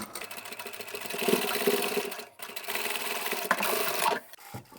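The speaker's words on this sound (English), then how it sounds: "I'll also backstitch over that too" A sewing machine runs in two bursts backstitching a seam on a plain zippered fabric pouch, a close, steady mechanical whir that pauses briefly midway, with no talking.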